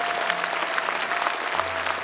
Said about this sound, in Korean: 주님께 영광의 박수를 할렐루야